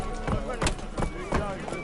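Hooves of the horse in The Witcher 3 video game clop in an even trotting rhythm, about four close, heavy beats over a steady bed of game ambience.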